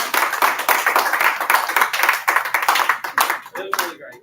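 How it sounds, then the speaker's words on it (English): A classroom of students clapping after a Cold War containment demonstration, a close burst of uneven overlapping hand claps that thins out and stops near the end. "Somebody clap for them."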